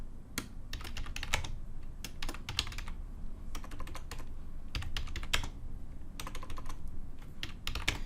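Fingers tap on a computer keyboard in quick bursts of keystrokes separated by short pauses, close but fairly soft.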